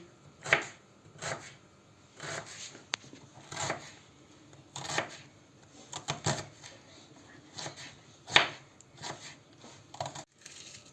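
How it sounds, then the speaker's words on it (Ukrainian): Two onions sliced into half rings on a cutting board, a series of separate knife chops in an uneven rhythm, close and fairly quiet. "Дві цибулі нарізаємо півкільцями"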